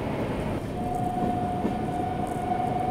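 Howrah-Barmer express overtaking on the third line at Dadri, heard from aboard another moving train as a steady heavy rail rumble with a faint sustained tonal whine, continuous and close, without speech.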